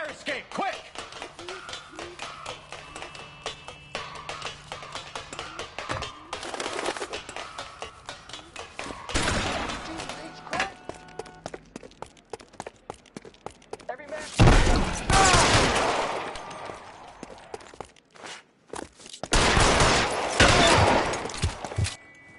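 Gunfire rings out in the video game L.A. Noire, sharp repeated shots crackling through a rooftop chase with bursts of louder volleys, mixed with game voices talking and background scoring.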